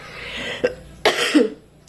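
Two or three sharp, rough coughs close by, the last one followed by a short throaty trailing sound, with no talking.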